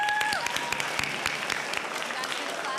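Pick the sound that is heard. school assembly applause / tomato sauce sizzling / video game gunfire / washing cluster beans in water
school assembly applause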